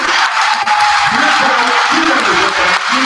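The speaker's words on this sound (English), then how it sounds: "Big round of applause for the Canadian rugby champions" An audience at a Dorchester Dolphins game applauds the Canadian wheelchair rugby champions, producing loud, dense, continuous clapping with some cheering throughout the short burst, close and steady.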